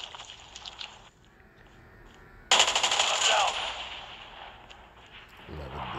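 Automatic weapon fire in Call of Duty Mobile during a search and destroy match, a loud dense burst of rapid shots arriving suddenly after a quieter stretch, with faint game ambience before and after.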